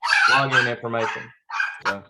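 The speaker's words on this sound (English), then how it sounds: "I apologize for the dogs in the background." Dogs bark in the background of an online class meeting, a few short yips and barks mixed in with an ongoing voice that talks over them.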